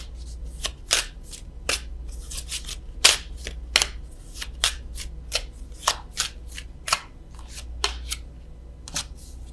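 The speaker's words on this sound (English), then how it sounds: "I am going to draw a love card from the French vintage stamp Love Oracle" A deck of vintage-stamp love oracle cards is shuffled and handled, giving a quick irregular series of crisp riffles and slaps, close and clear over a faint low hum.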